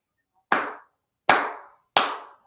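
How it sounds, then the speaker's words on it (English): Three loud, separate hand claps close by, evenly spaced about three-quarters of a second apart, each with a short decaying ring and no voices. "All I can do is clap."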